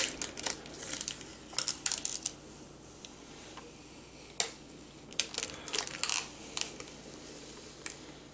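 Tape being peeled off a cured, rock-solid workpiece in a workshop, heard as a series of quick crackling, crinkling rips in short bursts with pauses between, fairly close and with no talking.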